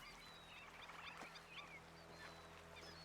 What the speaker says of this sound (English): I'm still hearing a lot of ducks.